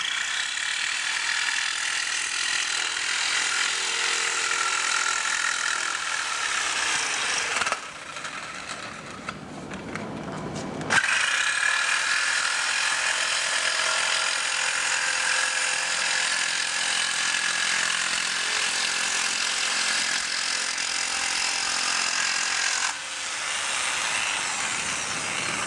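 A power tool cuts and sands a part close to a marked line during a Robin Hood Super Spec kit car build. The loud, continuous grinding whir breaks off briefly partway through, then resumes steadily.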